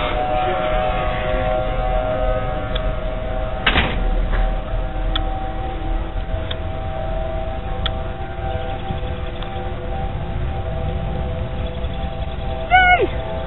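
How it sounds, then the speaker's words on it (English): A Thunderbolt 1000T civil defense siren sounds a thunderstorm warning at dusk: a sustained wailing tone carries from a distance, steady throughout, with a few faint knocks and a brief sharp chirp near the end. "Now they're sounding the sirens."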